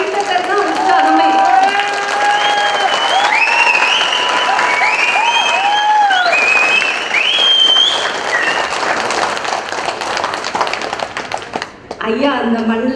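Applause from the audience at a training closing ceremony in Thirupur carries on steadily while bird-like whistles or a melodic tone glide over it, then the clapping thins and breaks off near the end.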